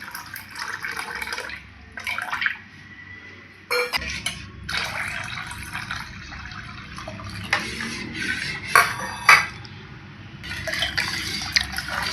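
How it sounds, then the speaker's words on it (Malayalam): Water poured into a pot of tamarind rasam during home cooking, splashing and gurgling in several bursts separated by short pauses, with faint metallic pot sounds between pours. "നമുക്ക് ഈ രസത്തിലേക്ക് ആവശ്യമായിട്ടുള്ള വെള്ളം ചേർത്ത് കൊടുക്കാം"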